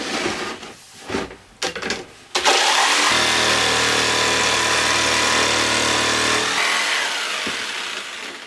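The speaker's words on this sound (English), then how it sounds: "2 more cuts on this pipe." A power saw cuts through pipe to make hydro turbine fins, starting with a few short bursts, then settling into one loud, steady cutting run of several seconds before winding down.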